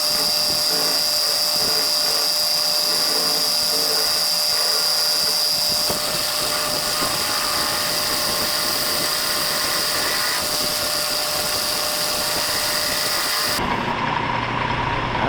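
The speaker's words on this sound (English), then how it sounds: "Drill a hole in it, drive it down on there" A drill bores into an outboard motor shaft piece during a shop repair, producing a loud, continuous high whine with a steady grinding roar that shifts character partway and cuts out near the end.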